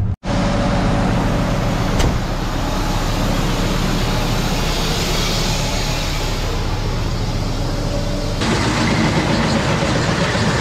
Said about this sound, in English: Just gonna drive out in front of our yard here, hop on the road and back into the other driveway.